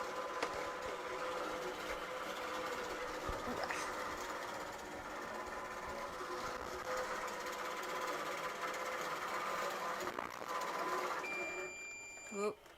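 A longarm quilting machine stitches steadily at close range, giving a continuous mechanical hum and whir. A brief thread break interrupts it near the end.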